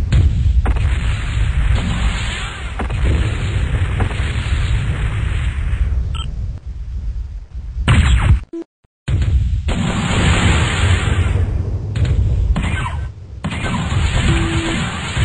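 Heavy, sustained booming rumble of a mech exploding in the Netmech game, loud and dense with a brief dropout midway before the roaring blast noise resumes.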